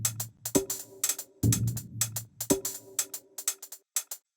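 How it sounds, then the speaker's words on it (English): A heavily swung 606 drum machine hi-hat pattern plays crisp, short ticks in a repeating groove alongside a sparse low percussive hit, dry and upfront with no voices. "If you combine that with the other percussive element, which is a 606 hat, sounds like this."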